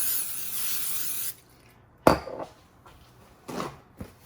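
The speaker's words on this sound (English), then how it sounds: "I'm going to spray this again with the cooking spray" A steady hiss of cooking spray onto salmon for about a second, then quiet clinks and a couple of short bursts nearby.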